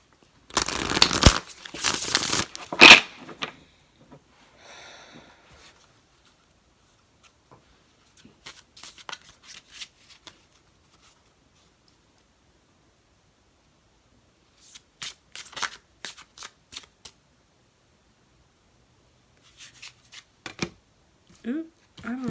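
Tarot cards are riffled and shuffled in a loud burst, followed by softer intermittent shuffling and handling sounds with quiet pauses.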